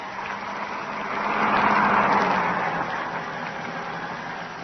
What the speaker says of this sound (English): the first post office van was already approaching